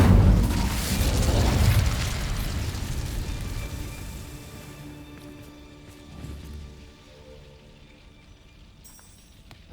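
A fiery Incendio spell blast from the video game Hogwarts Legacy: a loud, booming burst up front that rumbles for a couple of seconds, then fades into a quieter crackling tail with a small pop near the end.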